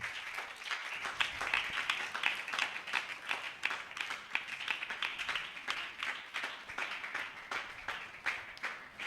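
Children clapping together at a Christian kids' sermon, a steady run of sharp, closely spaced hand claps that carries on evenly for the whole stretch at moderate loudness, with no talking over it.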